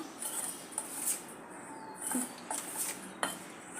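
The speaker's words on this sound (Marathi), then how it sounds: "बेसन पीठ आणि रवा आपण चांगल्या प्रकारे मिक्स करून घेऊया" Gram flour and semolina stirred together in a bowl, heard as light clinks and scrapes of a spoon against the dish in an irregular rhythm, fairly quiet, with no voice.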